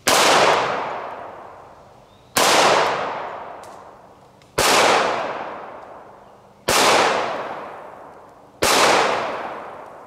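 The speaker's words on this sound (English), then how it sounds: "We're gonna shoot that right salt block with this Springfield 1911 chambered in 45 ACP." Five loud, evenly spaced shots from a Springfield 1911 pistol in .45 ACP firing 230-grain full metal jacket rounds outdoors, each sharp crack trailing off in a long echoing decay, no talking.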